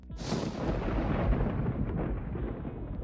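Loud, deep thunder from a storm, a sudden sharp crack that swells into a long, heavy rolling rumble, sustained and powerful throughout with no voices.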